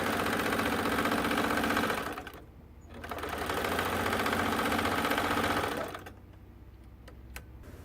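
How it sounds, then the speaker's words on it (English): A sewing machine stitches a quarter-inch quilting seam in two close, rapid, whirring runs separated by a short pause, then stops and leaves quieter handling sounds. "Sew a line 1/4 inch to the left of the line you drew."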